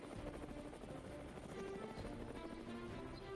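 Helicopter flying over a remote drop zone in Arunachal Pradesh, its steady rotor and engine drone filling the air continuously at moderate distance, with no voices.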